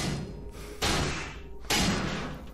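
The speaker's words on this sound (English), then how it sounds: "those guys that are banging on the vehicle" Zombies bang on a vehicle in the game Cataclysm DDA, heavy dull thuds landing in two separate rounds of pounding over a low, grinding background.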